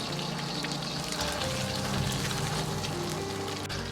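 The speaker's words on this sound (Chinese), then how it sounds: "再翻面煎另一面。" Egg frying in a pan over medium heat after being flipped, a steady close sizzle and crackle of hot oil that continues without a break.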